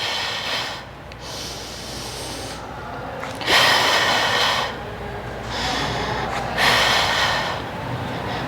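Deep breaths during a mat Pilates workout, several loud breathy exhales and inhales in a steady rhythm, heard close and alone over a low background hum.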